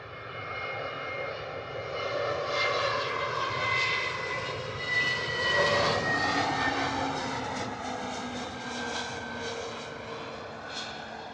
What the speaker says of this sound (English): EasyJet 320 Neo coming in from Inverness, Scotland to Bristol in the Neo livery